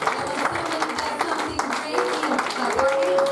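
Many hands clapping together in a church congregation during a francophone revival service in Bathurst, a continuous crowded patter with voices and a brief sustained tone rising over it near the end.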